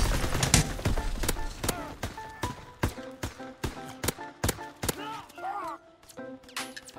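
Rapid bursts of MP40 submachine gun fire in a Call of Duty match, repeated sharp volleys with brief gaps, loud and close throughout.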